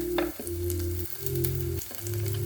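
Garlic, carrots and celery for an Italian-style sofrito fry in a pan, giving a steady sizzle over a low humming drone that breaks off briefly a couple of times.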